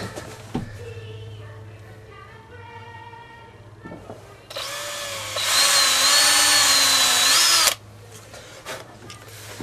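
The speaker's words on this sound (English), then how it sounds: "I'm going to pre-drill the next one so we don't ruin the door frame" A power drill whirs steadily for a few seconds, its pitch rising as it bites into a wooden exterior door frame, with a quieter run-up before it and handling noises around it.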